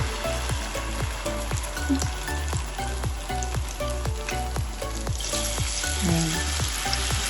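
Food sizzles and crackles steadily in hot oil, with a dense, continuous hiss and rhythmic clicks of stirring throughout.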